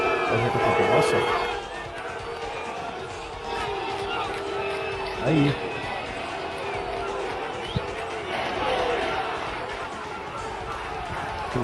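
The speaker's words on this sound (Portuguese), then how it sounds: "Torcida do CSA na bronca, chamando o time de sem vergonha, na saída do jogo" Football fans of CSA jeer and shout at their players leaving the pitch after a goalless match, a loud, rowdy crowd din with overlapping voices and scattered bangs, close to the recorder.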